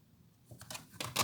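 Tarot cards are shuffled in a few quick, crisp riffling bursts that grow louder over a second, close up against a quiet room.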